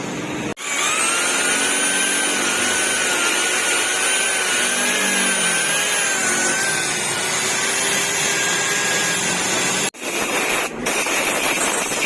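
High-pitched grinder whines steadily while porting a motorcycle cylinder head and valve for a 54mm setup on a Raider J115 Fi, a continuous loud tool sound with shifting pitch that cuts out briefly near the end before resuming.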